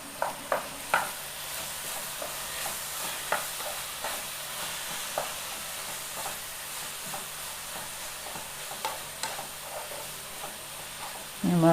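Spoon stirring an ivy gourd stir-fry with turmeric and salt in a hot pan, a steady sizzle under a series of sharp scraping clanks, close by.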